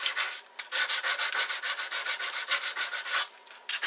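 Sandpaper rubbed back and forth along a practice guitar fretboard to remove file scratches, a steady run of close, rhythmic scraping strokes with brief pauses.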